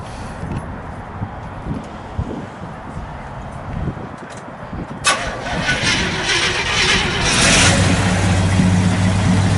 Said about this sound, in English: Go ahead and fire it up.